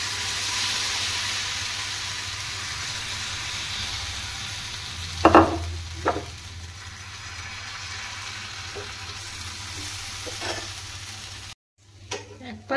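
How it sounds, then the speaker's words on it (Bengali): Jali pitha batter poured into a hot oiled frying pan on a gas flame, a steady close sizzle with a few sharper scraping bursts midway before a brief cut. "এবার এটাতে যে ব্যাটার তৈরি করে রেখেছিলাম সেটা দিয়ে দেব।"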